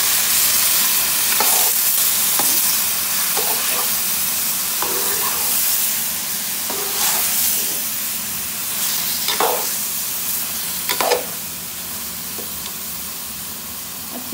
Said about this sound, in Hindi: गाजरें शामिल करके इसको अच्छी तरह से हम भून लेंगे।